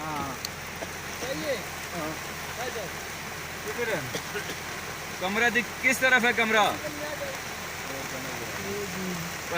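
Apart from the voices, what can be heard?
rain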